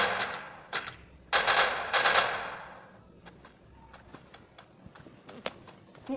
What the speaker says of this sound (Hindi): यहाँ बहुत ही फायरिंग हो रही है